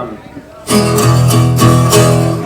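An acoustic guitar made of plywood starts after a short quiet moment, strummed chords ringing out steadily with a few fresh strums on top.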